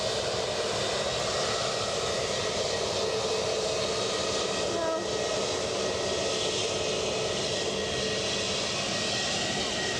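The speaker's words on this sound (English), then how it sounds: "EasyJet off to Amsterdam." An easyJet airliner takes off from Edinburgh bound for Amsterdam, a sustained, even jet roar that stays broad and unbroken for the whole stretch.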